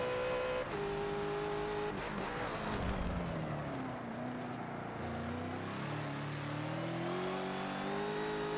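A Bentley GT3 race car lapping the Hockenheimring in the Forza racing game, its engine revving up and down through upshifts and sweeping pitch changes, loud and continuous with no talk.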